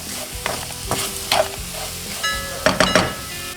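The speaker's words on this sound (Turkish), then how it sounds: "Yarım su bardağı toz şekeri doğranmış şeftaliye ekliyoruz. Yüksek ateşte karıştırarak kıvam alana kadar pişiriyoruz." Chopped peaches and sugar cook over high heat in a pan, stirred with repeated scraping strokes over a steady sizzle, close and alone without voices.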